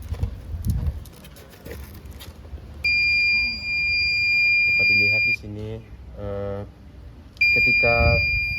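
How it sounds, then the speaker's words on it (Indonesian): A buzzer on a microcontroller board beeps as its PIR motion sensor detects a person. The piercing electronic tone sounds in two long steady stretches, with someone talking between them and handling noise at the start. "ketika Peer mendeteksi adanya makhluk hidup di sekitarnya, maka buzzer akan berbunyi sebagai outputnya"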